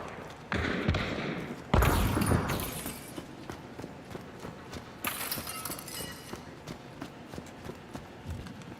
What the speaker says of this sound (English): just heard that shot. footsteps.